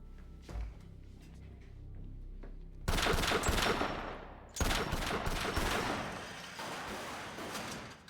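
A 9mm handgun fired in a dramatic scene, a few sharp separate shots at first, then two long loud bursts of rapid fire with echoing tails.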